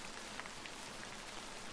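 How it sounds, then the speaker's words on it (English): Quiet rain in a video game falls on a girl's umbrella, a soft, even patter of drops that continues without a break for nearly two seconds, with no voices. "Pitter-pat. The drops make a small sound as they land on the girl's umbrella."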